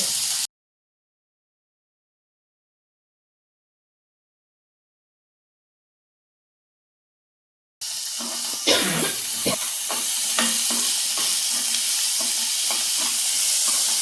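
Onions sauté and are stirred in a pan for a plantain stem and Bengal gram poriyal, a steady close sizzle with scraping stirs, starting after a long stretch of silence.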